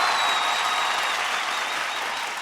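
Audience applause welcoming performers on a comedy show's grand finale stage, a broad, continuous wash of clapping from a large crowd, loud and slowly fading.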